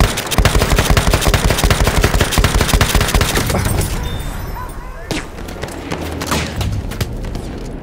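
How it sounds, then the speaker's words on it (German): Rapid machine gun fire in a video game rattles loudly in fast, even bursts for several seconds, then fades into scattered shots and battlefield noise, with voices shouting in German. "Aufpassen, Maschinengewehr!"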